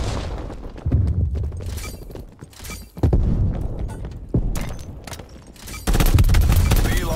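Pistol gunfire in Call of Duty: Cold War, pistol-only multiplayer: sharp shots in quick bursts, several clusters of rapid firing spread across the clip with brief pauses, loud and close, mixed with game effects.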